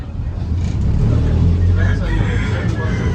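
Roosters crow close by at a Tampa streetcar stop, a couple of loud cock-a-doodle-doo calls over street and traffic noise.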